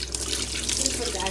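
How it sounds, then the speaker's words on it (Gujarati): A kitchen tap runs water into a cooking pot, a steady close gush filling the vessel while a voice talks over it. "આમાં થોડીક વાર પાણી ભરીને તપેલી મૂકી દઈએ છે"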